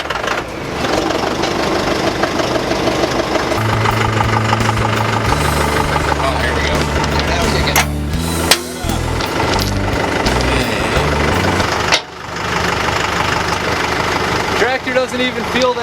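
A utility tractor engine runs steadily at idle with a continuous droning rumble, joined by clanks and shifting mechanical tones, loud and close throughout.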